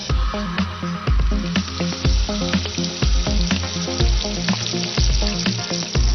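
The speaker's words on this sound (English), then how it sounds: "By the meantime, we will take this baigan and we will fry it." Aubergine (eggplant) pieces, baigan, fry in hot oil with a loud, continuous sizzle over rhythmic, steady low thumping in the background.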